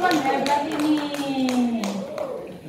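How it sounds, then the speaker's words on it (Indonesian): Applause from a crowd at a cultural performance in a cafe in Tumpang, Malang, Indonesia, brisk overlapping claps lasting a few seconds, with a voice speaking over them. "Beri tepuk tangan buat para perempuan-perempuan hebat ini"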